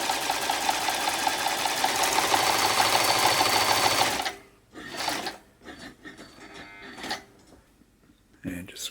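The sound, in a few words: Janome Combi sewing machine stitching a narrow zigzag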